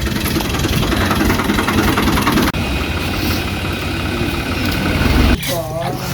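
A steady, rumbling tractor engine idles continuously with a low mechanical throb, close and loud, briefly dipping before a voice cuts in near the end.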